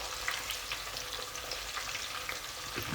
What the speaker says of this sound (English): I'll be letting it fry